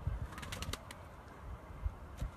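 Domestic pigeons released from a loft, mostly blue birds with a couple of smoky ones, burst into a quick flurry of flapping wings near the start, then softer rustles and faint bird sounds follow.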